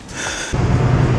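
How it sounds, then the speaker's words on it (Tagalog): A person breathes heavily after rushing to catch a bus, with a sharp gasp followed by loud, rough exhalation close to the microphone. "Hingal ako."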